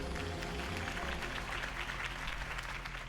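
Crowd applause after a campaign speech in the Telltale Batman video game, a steady dense clapping over low music that stays loud and even throughout.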